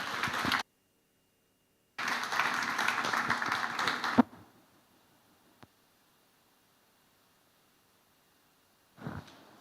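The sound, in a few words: audience clapping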